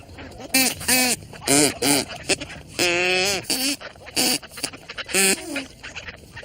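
Short, nasal, duck-like squawks from a flattened plastic straw reed cut to a point and blown hard, about a dozen honks in an uneven rhythm, close by.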